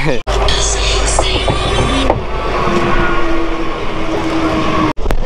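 A train stands and rumbles at a railway station platform. There is a steady, loud, close mechanical hum, a brief high hiss or whine early on, and a couple of sharp knocks.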